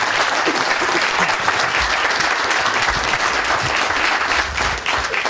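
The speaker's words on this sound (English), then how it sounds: "So how about a round of applause for them?" Steady, loud audience applause fills a city birthday celebration in Brookhaven, a dense wash of clapping hands that holds at full strength throughout with no voices over it.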